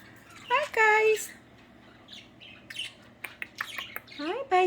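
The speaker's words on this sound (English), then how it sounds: "Hi, Budgies. Pretty birds." Pet budgies chirp and squawk in a home cage setting, a loud burst of calls early on followed by scattered sharp chirps and chatter, close by with a little speech.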